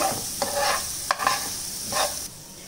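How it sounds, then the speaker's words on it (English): Onions and soaked soya granules sauté in a pan for a baida roti filling, with a steady close sizzle and several scraping spatula strokes across the pan and no voices. "Again saute it nicely."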